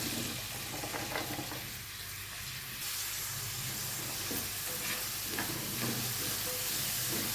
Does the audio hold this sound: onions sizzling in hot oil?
yes